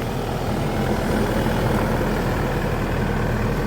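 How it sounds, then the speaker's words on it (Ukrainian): A car engine idles just after starting outdoors in freezing winter weather. A steady, close, low rumble runs evenly throughout with no talking. "тачка завелася, батя, можеш погазувати"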